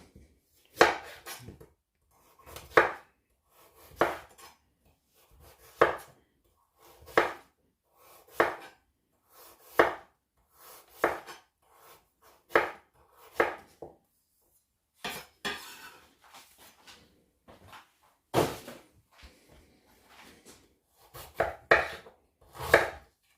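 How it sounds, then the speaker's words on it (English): Ginger chopped fine with a knife on a board: a long series of sharp, close, quick chopping strokes in short bursts with brief pauses, each burst landing as clustered knocks, with no talking. "The reason why I chop it up as small as possible,"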